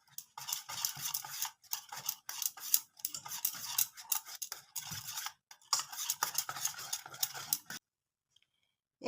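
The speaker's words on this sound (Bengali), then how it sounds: "এবার আমি এখানে ইয়েলো ফুড কালার নিয়েছি, আপনারা নাও দিতে পারেন। খুব ভালো করে মিশিয়ে নেব।" Pitha batter tinted with yellow food colouring, mixed with quick rhythmic stirring in bursts of scraping and tapping, close and fairly quiet, with short pauses between rounds and silence near the end.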